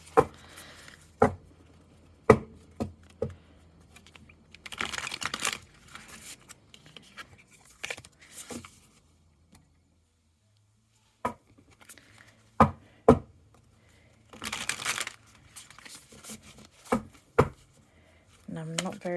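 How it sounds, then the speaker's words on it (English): Tarot cards being shuffled in short crisp bursts with pauses between, close up, with occasional taps and rustles. "Let's see if I can shuffle it."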